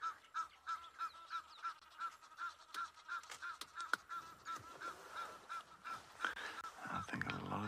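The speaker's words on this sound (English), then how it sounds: "these Egyptian geese are making so much noise" Egyptian geese honking at sunset on a safari, a repeated rhythmic series of nasal honks at a steady pace, with sharper calls and clicks scattered through, moderately distant.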